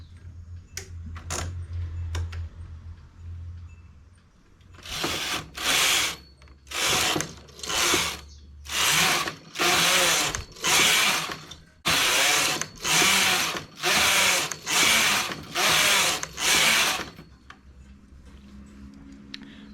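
A knitting machine carriage knitting a baby cardigan is pushed back and forth in about a dozen loud, evenly spaced mechanical ratcheting passes, preceded by a few quieter clicks and ending in a low hum.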